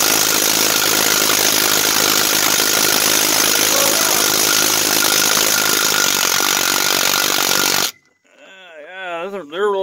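Impact gun loosening brake bolts on a 2004 Ram 3500 dually, a loud continuous buzzing hammering rattle for about eight seconds, then cutting off abruptly into a brief moment of talk.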